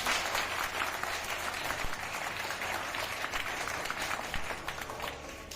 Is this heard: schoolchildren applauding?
yes